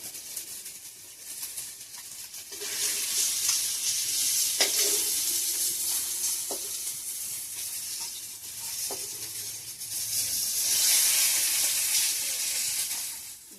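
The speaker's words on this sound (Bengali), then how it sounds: "তো সমস্ত মাছগুলো ভেজে নিচ্ছি" Pieces of bata fish fry in hot oil in a Bengali kitchen, a close, steady sizzle and hiss that swells and eases, punctuated by a few sharp pops and light clinks.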